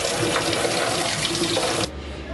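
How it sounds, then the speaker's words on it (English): Cold water running from a kitchen faucet and pouring over freshly made Afghan cheese, a loud, steady rushing splash that cuts off abruptly near the end, leaving a softer trickle. "you can pour cold water on top of this"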